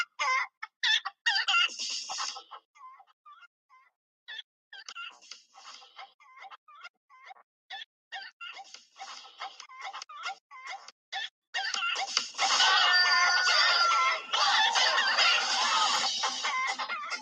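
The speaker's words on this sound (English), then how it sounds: "There's the chicken song." A flock of clucking chickens and fowl, with a rooster crowing, fills a community setting; choppy bursts of clucking give way to a dense, continuous loud chorus in the second half.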